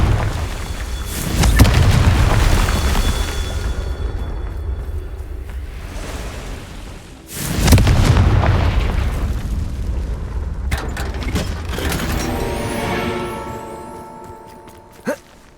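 A Confringo blasting spell explodes in the Hogwarts Legacy game with a loud boom, and a second deep blast follows a few seconds later. A rumbling, crackling tail trails each blast, and lighter magical clinks and tones come at the end.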